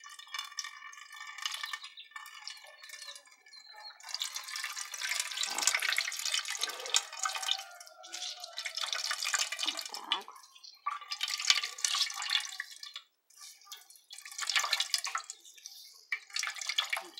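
Water splashing and dripping as something soaked is wrung out by hand, in uneven bursts of trickling and spattering. A voice speaks briefly between them.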